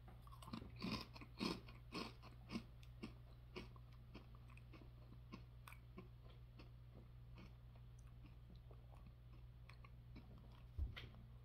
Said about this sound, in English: let's take a first bite of the brand new Goldfish Crisps, and this is the cheddar flavor